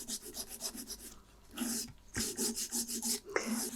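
A nail file shapes fingernails square in quick, close, rhythmic rasping strokes, with a brief pause partway through.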